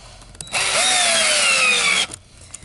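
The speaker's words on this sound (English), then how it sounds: "you want to make sure you drill a pilot hole" A power drill bores a pilot hole into the wood of a furniture frame, fitted for a zigzag spring repair bracket. It is one loud, close burst of about a second and a half that whines up to speed, then cuts off.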